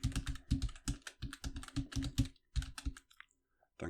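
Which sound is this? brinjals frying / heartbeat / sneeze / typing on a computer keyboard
typing on a computer keyboard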